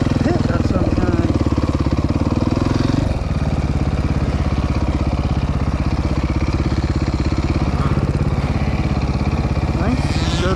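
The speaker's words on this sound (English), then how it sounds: "Oh, there's all the dirt bikes." Several dirt bikes run at a Croom motorcycle riding area, a steady buzzing drone of idling and revving two-stroke engines that dips briefly near the middle, with people talking over the noise.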